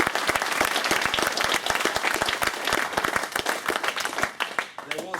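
Sustained, dense applause from an audience at a tabletop gaming tournament in Stockport, loud and steady with many hands clapping, tapering slightly at the end.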